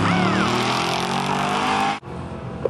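Drag race cars launch side by side at Woodburn Dragstrip in Oregon at an arm-drop start, a loud sustained engine roar that cuts off abruptly near the end, followed by quieter engine noise.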